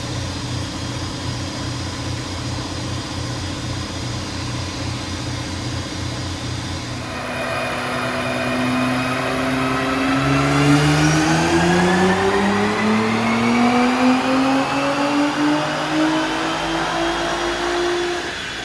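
A Nissan R35 GT-R running E85 fuel makes a dyno pull: an idle-like pulsing drone gives way to a loud, rising engine howl that climbs steadily in pitch through the revs, close and alone.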